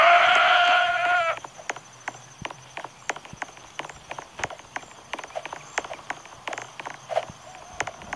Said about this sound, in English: Oh look, there's a goat.